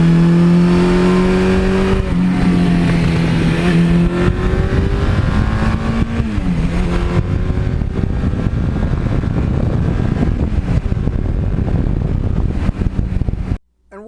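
A 1982 Suzuki GS1100E motorcycle out on the open road, its engine droning steadily and loudly with rising and falling tones as it shifts and pulls, mixed with wind rush, then cutting off abruptly at the end.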